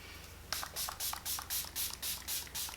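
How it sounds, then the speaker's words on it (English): Makeup setting spray from a D'Alba bottle, given about seven quick, evenly spaced pump bursts of misty hiss, each short and close, with nothing else heard between them. "And then a little D'Alba setting spray."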